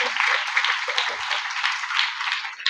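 A church congregation at a Hindi-language praise service claps together, a steady dense burst of hands filling the space for a few seconds.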